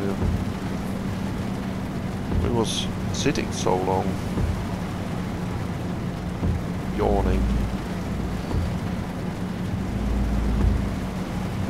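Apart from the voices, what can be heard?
rain and thunder in a video game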